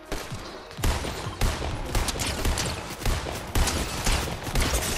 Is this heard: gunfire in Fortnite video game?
yes